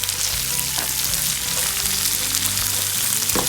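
Chopped onions sizzle loudly as they sauté in hot oil with liver masala for a Kerala beef liver pepper fry, a dense steady crackle with occasional stirring scrapes.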